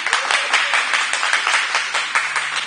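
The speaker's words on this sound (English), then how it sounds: "can we give a round of applause for the event producer tonight?" An audience claps in a live event room to honour the event producer, a dense, steady patter of many hands that holds for a few seconds without a break.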